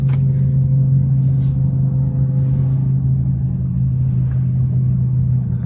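An outboard boat motor with a bad fuel pump idles steadily at close range, a loud continuous low hum with a steady drone and no talking.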